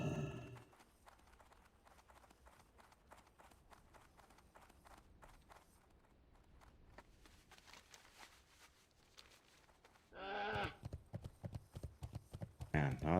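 Horse mount hoofbeats in World of Warcraft: The Burning Crusade, a steady run of clip-clop steps under game sounds that jumps much louder and nearer over the last few seconds.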